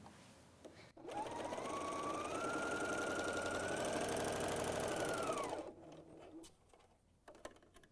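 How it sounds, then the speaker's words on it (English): A BERNINA L 660 overlocker sews a 4-thread overlock seam in fabric, a steady, loud mechanical whir running for about four and a half seconds before stopping, with quieter handling noises before and after. "Towards the end of the seam, overlock stitches are usually sewn over the edge"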